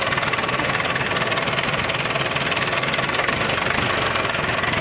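A Massey Ferguson 185 tractor engine idles steadily with a constant low rumble and a faint knocking rattle, close by, with no talking.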